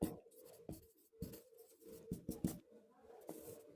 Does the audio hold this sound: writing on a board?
yes